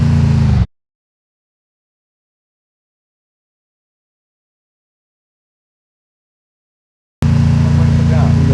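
A vehicle engine in the Free Fire video game drones with a steady, loud hum, cuts out completely for several seconds, then resumes at the same level.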